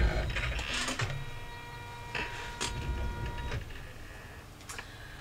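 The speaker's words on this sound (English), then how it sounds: "And we are now stitching colorway 4, which is going to hold that down." Embroidery machine stitching an in-the-hoop double zip phone pouch, a steady mechanical chatter of needle strokes with faint ticking and a soft motor hum throughout.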